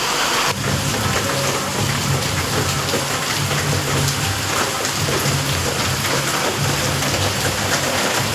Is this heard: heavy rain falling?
yes